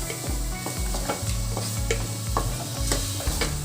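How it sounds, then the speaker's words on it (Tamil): Ground coconut paste sautéed into a mutton gravy: a spatula scrapes and stirs in a steady rhythm against the pan over a continuous close sizzle. "இதையும் நல்லா வதக்கிக்கலாம்."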